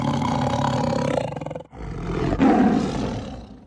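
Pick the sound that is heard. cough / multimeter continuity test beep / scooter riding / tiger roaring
tiger roaring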